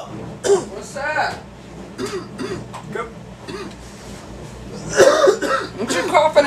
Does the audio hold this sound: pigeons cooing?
no